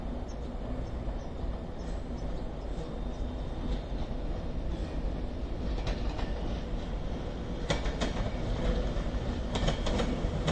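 An Avanti West Coast Class 390 Pendolino passes through Crewe station on the West Coast Main Line without stopping, a steady loud rumble of rolling stock with sharper rail clatter and hiss building toward the end.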